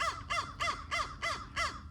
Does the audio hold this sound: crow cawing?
yes